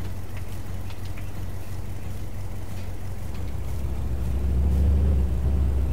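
Steady low tractor engine rumble from Farming Simulator 22, droning evenly and growing slightly louder toward the end, with no talk over it.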